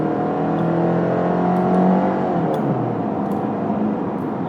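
A 2022 Subaru Impreza Premium hatchback with a CVT pulls at full power in sport mode on a highway merge, heard from inside as a loud, steady engine drone that swells slightly mid-way, with no talking.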